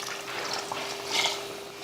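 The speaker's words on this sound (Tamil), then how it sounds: "மிக்சி தர கழுவி முதல்ல ஊற்றிட்டு தேவையான அளவுக்கு தண்ணி சேர்த்துடலாம்" Water from a rinsed mixer jar is poured into a pot of country chicken curry cooking on the stove, a brief, soft trickle and splash heard on its own.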